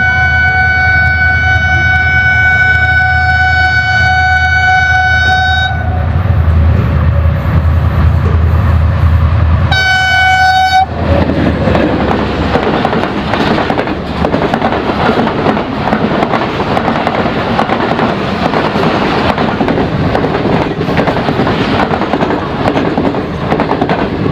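An express train passes close by, first with a loud sustained horn blast, then a second short horn, followed by the heavy, continuous rumble and clatter of coaches rolling past on the rails.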